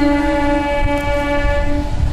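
A train sounds a sustained horn blast on the Jubilee Bridge over the Hooghly River, a steady tonal note held for the whole moment over a low rumble of nearby activity.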